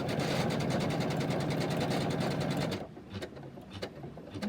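An embroidery sewing machine runs a bean stitch outline around a snowman design, a steady loud rapid needle chatter that stops abruptly near the end, leaving quiet room noise with faint clicks.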